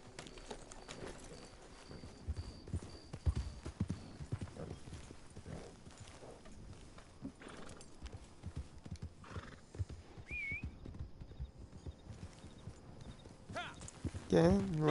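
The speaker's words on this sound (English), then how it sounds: "Alright, you're a good horse." Horse hooves clip-clop steadily through a Red Dead Online game scene, with a whinny rising near the end, while someone talks over much of it.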